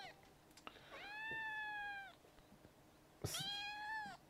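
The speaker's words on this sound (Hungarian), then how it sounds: "Nyávog egy macska." A cat in the farming video game Professional Farmer: Cattle and Crops gives two clear, drawn-out meows, one early and one near the end, with a quiet pause between them.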